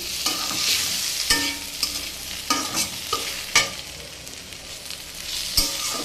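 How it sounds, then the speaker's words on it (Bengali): Eggplant and potato frying in oil tempered with black cumin, a close sizzle broken by repeated scraping and knocking stirs of a spatula against the pan, with no talk. "একটি বেগুন কালো জিরে ফোড়ন দিয়ে একটু ভেজে নিলাম।"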